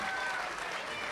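An audience at the Toronto Poetry Slam Finals 2017 claps after a short poem, a brief, dense wash of crowd applause and noise.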